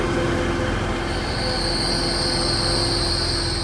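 A train rolls into a station with loud, sustained high-pitched wheel squeals over a heavy rail rumble, continuous and close, with no talking.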